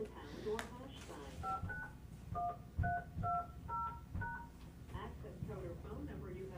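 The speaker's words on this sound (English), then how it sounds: "Please enter your access code followed by the pound or hash sign." Phone keypad DTMF tones entering an access code on a conference call line, a string of about eight short evenly spaced beeps, moderately loud, between and under recorded prompts and speech.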